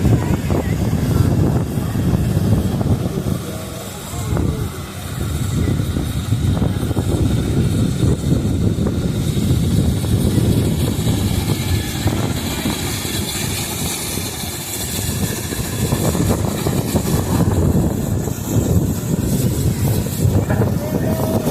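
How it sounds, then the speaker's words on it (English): A 2070 Nichols & Shepherd steam traction engine runs at an antique tractor pull, giving off a steady, loud mechanical rumble with continuous low churning and faint rhythmic chuffing throughout. "And this engine is the 2070 Nichols & Shepherd."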